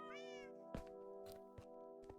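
A cat meows once at the start in the Minecraft video game, a short rising-and-falling mew, followed by a few faint clicks over a steady tonal background hum.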